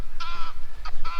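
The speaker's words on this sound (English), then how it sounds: "Egyptian goose" An Egyptian goose gives three short harsh honking calls in a row, close and fairly loud over a low background rumble, with brief gaps between calls.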